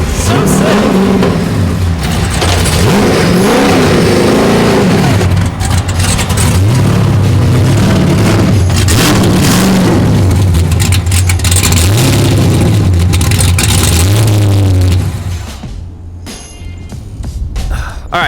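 A Nissan R34 drift car with a newly installed, more powerful engine revs hard and loud at close range, its pitch rising and falling. Voices may be faintly present, and the roar drops off sharply near the end.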